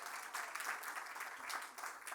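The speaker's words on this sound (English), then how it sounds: "Please give a big round of applause for DSLBD Director Rosemary Suggs-Evans." Steady applause from a crowd at a holiday market press preview in Washington, DC, sustained clapping with a few louder swells, no voices standing out.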